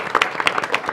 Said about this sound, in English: Let's have a round of applause for everybody who worked on this